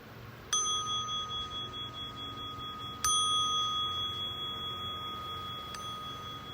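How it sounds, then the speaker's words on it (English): A meditation bell rings three times at the close of a lunchtime meditation, each clear metallic strike followed by a long, slowly fading ring in an otherwise quiet room. "listening for the sound of the bell"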